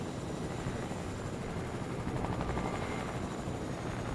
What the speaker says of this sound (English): Landing a helicopter is so awkward.